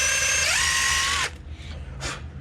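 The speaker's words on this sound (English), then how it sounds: "I drill a little pilot hole in here" Power drill boring a small pilot hole before a larger 13/16 bit, a loud whining motor that rises in pitch and runs steadily, then cuts off, followed by a couple of brief quieter bursts.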